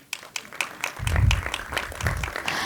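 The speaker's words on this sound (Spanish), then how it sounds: "Otro aplauso." Forum audience applauding an introduced participant at an education event, starting with a few scattered individual claps that quickly build into full, steady applause from the crowd.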